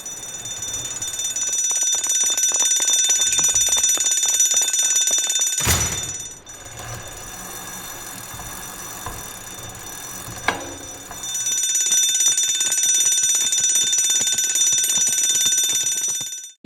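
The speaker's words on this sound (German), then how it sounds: "Alarm! Alarm!" Shrill alarm bells ring continuously and loudly, cut by a sharp clatter midway, drop out for a stretch of quieter background, then resume ringing near the end.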